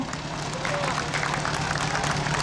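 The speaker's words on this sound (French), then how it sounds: "On l'applaudit Bernard" A crowd applauds steadily at a vintage car festival in Dourdan, a continuous patter of many hands with some background voices mixed in.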